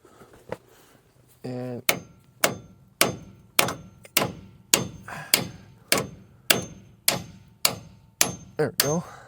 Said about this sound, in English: Get a hammer of some sort.